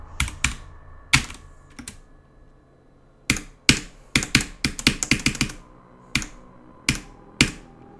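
Bursts of computer keyboard keystrokes, sharp clicky taps in irregular clusters with pauses between, close and fairly loud, with no talking.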